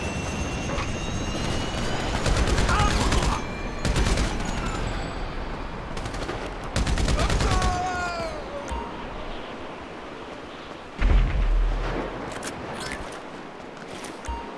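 Gunfire during a GTA 5 shootout, with repeated loud bursts of rapid automatic fire and single cracking shots coming in clusters across the whole stretch, some sharp and near, amid background noise.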